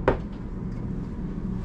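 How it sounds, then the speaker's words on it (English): A single sharp knock-like impact on a knock-to-open cabinet in a 2022 Newell Coach 1731 motorhome interior, brief and close, followed by a low steady background hum. "three knocks and it opens up"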